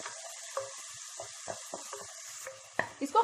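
Crushed onions sautéing in a pan for a Hyderabadi chilli chicken korma, a steady soft sizzle broken by scattered scrapes and clinks of a spoon stirring, growing busier toward the end.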